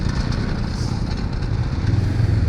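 A 1000cc twin-cylinder motorcycle engine with its stock muffler, running steadily and loud close by with a low, even rumble.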